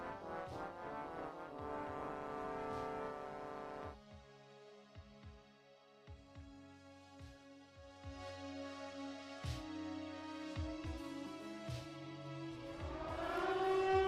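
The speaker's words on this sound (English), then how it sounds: "That Siren's actually making me really excited to finally play Silent Hill 2." A Silent Hill 2 siren from a video game trailer wails loudly with long rising and sustained mournful tones and droning harmonics, alone without talk, swelling toward the end.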